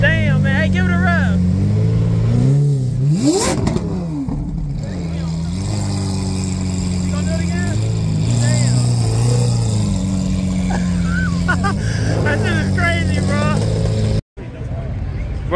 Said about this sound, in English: Hey, give it a rev.